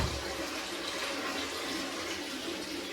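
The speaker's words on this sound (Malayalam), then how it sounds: "അപ്പൊ നമ്മൾ ഇതിനകത്ത് വെള്ളം നിറയ്ക്കാൻ പോവുകയാണ്" Water pours steadily into a glass aquarium tank, a continuous rushing splash at even loudness with no talking over it.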